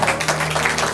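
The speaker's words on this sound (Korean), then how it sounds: "박수" A group claps briefly after a farewell greeting at a Korean youth care facility, a short burst of scattered hand claps with faint voices underneath.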